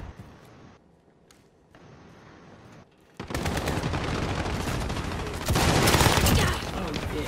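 Gunfire in a video game breaks out as dense, loud bursts of rapid shots after a quieter stretch, sustained and intensifying toward the end.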